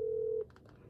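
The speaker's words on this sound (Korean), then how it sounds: "공지방에 초대해도 되는지 전화를 돌리려고 합니다" A phone dialing out to place a call: one steady tone holds for almost half a second, then a short run of separate keypad beeps follows, clear and close with no talking.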